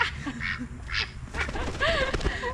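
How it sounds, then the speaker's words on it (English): Ducks of various breeds in a farm duck pen quack loudly and close by, several overlapping rasping calls in quick irregular bursts with a couple of shriller honks near the end. "welcome to our duck pen. We have 6 ducks of a variety of breeds"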